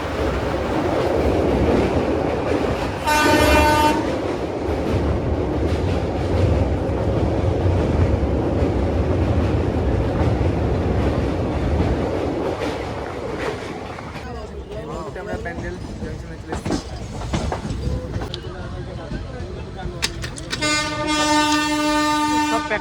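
A train rumbles steadily over the Bandel bridge across the Ganges, heard from on board, with continuous clatter, a short horn toot early on, and a longer, louder horn blast near the end.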